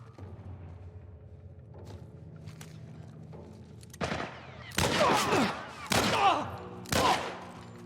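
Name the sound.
gunshots in The Last of Us video game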